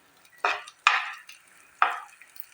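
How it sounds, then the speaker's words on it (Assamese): Masoor dal (red lentils) is fried in oil in a kadai over a medium flame, heard as three separate close scraping stirs with a soft sizzle trailing each stroke, quiet between them and with no voices. "দালিখিনি মই মিডিয়াম ফ্লেমত ভাজি ল'ম।"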